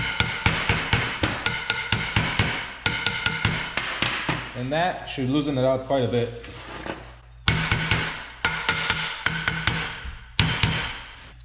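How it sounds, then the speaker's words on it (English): Steel hammer tapping a Dana 60 axle part into place during a Super Duty axle swap, a fast run of sharp metallic knocks with a brief pause midway while someone talks over it. "all you gotta do is grab a hammer and tap."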